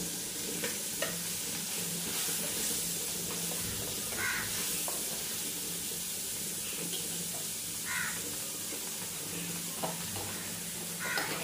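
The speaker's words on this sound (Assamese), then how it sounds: "আৰু যিকেইটা বাকী আছিলে গোটেইখিনি একেলগে ভাজি লওঁ।" Fish pieces, with washed sojna (drumstick) flowers, fry together in a pan of oil, giving a steady, moderately loud sizzle throughout with occasional scraping stirs and faint background sounds.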